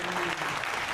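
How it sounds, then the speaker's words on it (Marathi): Brief burst of dense clapping from the audience at a Marathi harikirtan gathering, steady and fairly close, with a faint voice or tone lingering underneath. "एकदा या चारापल्ले परिवारासाठी मोकळ्या मनानं जोरदार टाळी वाजवा"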